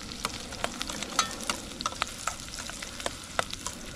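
Tilapia sautéing in hot oil in a pan: a continuous close sizzle broken by sharp crackles and spatter pops at irregular intervals, with no voices.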